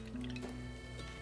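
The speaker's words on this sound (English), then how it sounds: "In this heavy saucepan, we're going to pour the milk" Milk pours into a heavy saucepan in a short, faint liquid trickle with a few soft splashes and drips, quiet and close, heard alone.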